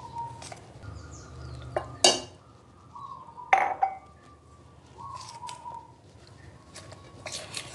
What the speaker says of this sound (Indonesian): Kemudian aduk, ini ngaduknya pakai sendok ya teman-teman karena airnya panas.